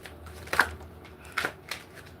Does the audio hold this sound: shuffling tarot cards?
yes